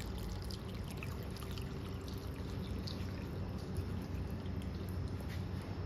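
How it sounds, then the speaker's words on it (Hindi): Water being poured into a desi hookah, a steady close rushing and trickling flow that continues evenly throughout without talk. "पानी इसमें भर लो"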